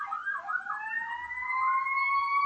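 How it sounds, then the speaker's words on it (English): An ambulance siren wails steadily and loudly as it passes nearby, its rising and falling tone continuous throughout, with no voices. "I'm letting the ambulance pass now again."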